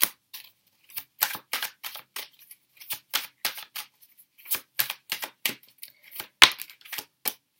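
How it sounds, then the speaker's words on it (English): Tarot cards being shuffled by hand, heard as a close series of crisp riffling bursts and flicks in quick irregular rhythm, with brief pauses between, and no talking. "I'm going to shuffle the rest of the cards actually to come out."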